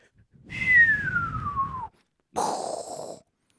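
A person whistles a single long falling note, pauses briefly, then gives a shorter breathy whistle; quiet and close, with no talking.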